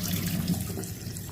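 Tap water rinsing Mickey noodles in a sink, a close, steady running and splashing stream with a fuller churn early on that eases slightly toward the end.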